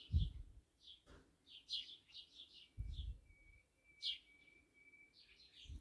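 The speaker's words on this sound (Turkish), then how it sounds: "Bu arada kuş seslerini de duyuyorsunuz." Birds chirp and tweet in short, bright bursts outdoors in a village, with a few low dull thumps in between and no talking.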